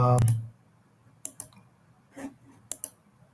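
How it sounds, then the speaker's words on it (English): Computer mouse clicks land sharply and close, about four separate clicks spaced across a quiet stretch after a short low rumble at the start. "So just going to click here."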